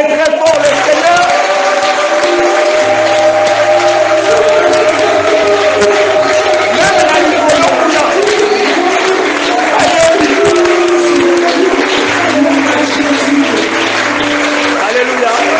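A church congregation at a Sunday service in Dolisie applauds loudly and continuously, with sustained clapping and crowd noise mixed with a voice and tonal sound throughout.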